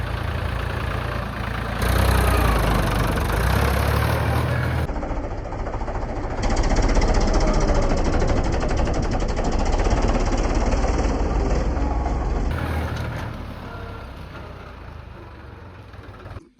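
A tractor's diesel engine, started after three months unused, idles steadily and loudly throughout, its chugging tone shifting slightly in pitch and intensity, with no talking.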